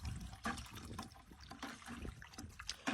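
Pulverized cannabis being stirred in isopropyl alcohol in a bucket, a quiet sloshing and trickling of liquid with soft irregular swirls, faint and close.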